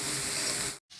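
Cumin seeds sizzle in hot oil in a pan, a steady bright frying hiss that cuts out abruptly near the end and then starts again.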